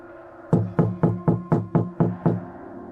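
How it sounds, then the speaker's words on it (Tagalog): Eight firm knocks on a door in an even, steady rhythm, close and clear with no one talking. "Kakatok ako sa pinto."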